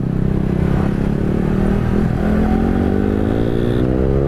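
Motorcycle with a loud open exhaust accelerating, a harsh continuous rasping roar with rising engine pitch, close and loud, no talking over it.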